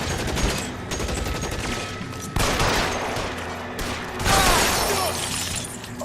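Heavy gunfire in the video game L.A. Noire: rapid, loud bursts of shots with sharp cracks and clattering impacts, continuous for several seconds and swelling near the end.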